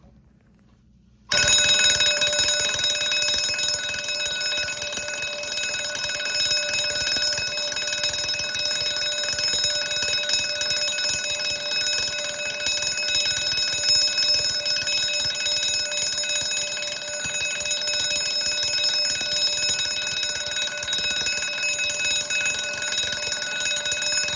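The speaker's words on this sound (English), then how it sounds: "this is either a 12 volt or 48 volt AC DC bell" A 12 or 48 volt electric fire alarm bell starts abruptly and rings continuously, a loud, steady metallic clatter with a fast even striking rhythm, close up and alone.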